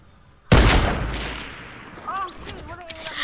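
A single loud gunshot from a sniper video game cracks sharply and rings out in a long decaying tail, then voices talk over the fading echo.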